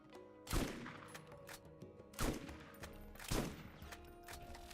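Desert shotgun firing in Borderlands, three loud booming blasts spaced about a second or more apart, each followed by a short ringing decay over faint game ambience.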